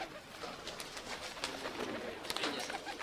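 A male Pakistani pigeon gives a few soft, faint coos and wing rustles against quiet background hiss.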